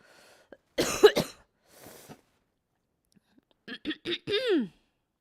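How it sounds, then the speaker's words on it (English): A couple of sharp throat-clearing bursts, followed after a pause by a few short, rough vocal grunts and snorts, close and moderately loud. "You just like snorted a little bit, trying to like clear my throat"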